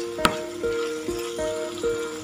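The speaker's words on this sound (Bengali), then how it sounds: "খুব হালকা একটু ফ্রাই করে নেবো, পুরো চিকেনটার মধ্যে যাতে ব্ল্যাক পেপার আর গার্লিকের স্মেলটা ভালো করে ইনফিউজ হয়ে যায়" Chicken frying in a pan with black pepper and garlic, with a steady soft sizzle throughout and a few light scraping stirs at regular intervals, close up, with no talk.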